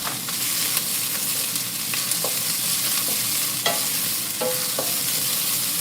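Onion, ginger, garlic and green chilies sizzle in a hot pan for a chicken curry, a steady loud frying hiss broken by scattered spatula scrapes and stirring clicks, with no one speaking.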